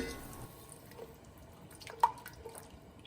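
Coconut milk pours from a can into a pan, giving faint liquid drips and splashes with one brief louder glug, close and quiet.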